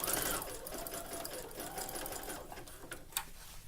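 A sewing machine stitches elastic onto a tankini swimsuit top, running steadily at close range for the whole stretch with a brief click near the end.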